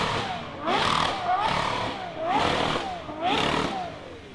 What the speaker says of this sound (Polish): Tu chyba silnik zatarł, nie wiem.